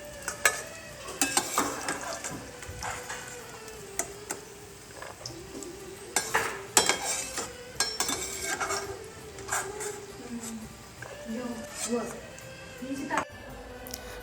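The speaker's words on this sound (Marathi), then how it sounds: "काजू आहे ना आता मस्त असे रोस्ट झाले तर काढून घ्यायचे ताटामध्ये." Cashews roasting in hot oil in a pan, a steady sizzle with occasional stirring scrapes and clinks, close by, with a person talking over much of it.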